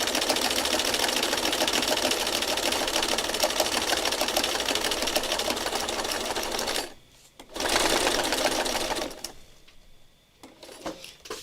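A sewing machine runs in fast continuous stitching bursts, close and loud, pausing briefly near seven seconds, then restarting before slowing and stopping in the last few seconds, with no talk.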